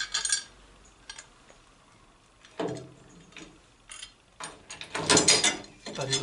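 Screws being driven into trunk hinge fittings on a Citroën Traction 11B, heard as a few bursts of ratcheting clicks separated by pauses, close and fairly clear, with a louder run of ratchet clatter near the end.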